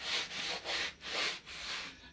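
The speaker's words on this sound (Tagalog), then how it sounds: "Diyan guys, susubukan niya magbunot." A coconut husk scrubbed back and forth across a concrete floor outdoors, making about five loud, rhythmic rasping strokes close by, with no talk.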